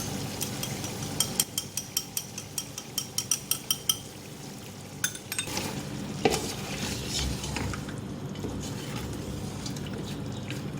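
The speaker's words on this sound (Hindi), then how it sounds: "दही डाल के मैंने इसको मिक्स कर दिया है।" Yogurt being stirred into browned chicken for a degi-style biryani, with a rapid run of spoon scrapes and clinks against the pot over a steady frying sizzle, then a quieter continuous hiss and stirring.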